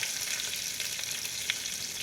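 Curry leaves, asafoetida, raw ginger and green chili crackle in hot oil as a tempering for a traditional Marathi alu leaf bhaji, making a continuous close sizzle with small sputtering pops.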